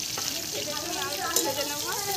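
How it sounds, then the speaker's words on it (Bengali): Dried chillies and garlic fry in hot oil in a home kitchen, a steady close sizzle and crackle filling the clip, with a faint voice underneath. "ওই তেলের মধ্যে দিয়ে দেবো শুকনো লঙ্কা, রসুন,"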